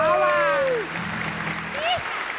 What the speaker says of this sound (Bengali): ওদের জন্য একটু জোরে হাততালি হবে